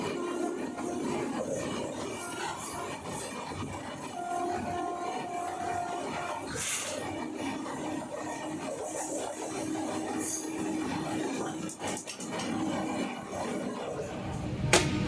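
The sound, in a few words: passenger train arriving at and departing Gudur Junction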